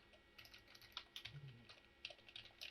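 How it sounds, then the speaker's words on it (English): Fingers typing on a laptop keyboard in quick, uneven bursts of light clicks, quiet and close, with no one speaking. "Still, I keep typing this point function."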